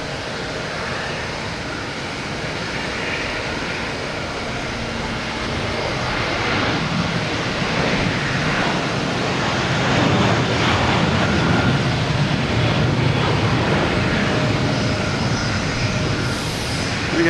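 A JetBlue Airbus A321 jet airliner at Boston Logan Airport gives a steady, loud engine roar that swells gradually and stays strong, heard alone without talk.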